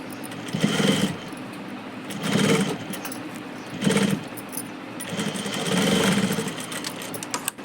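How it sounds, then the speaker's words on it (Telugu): A sewing machine stitches around fabric in several bursts of rapid mechanical whirring, each lasting about a second or more, separated by short pauses, close and clear. "ఇలా చుట్టూ మళ్ళీ డబుల్ కుట్టేసుకోవాలి."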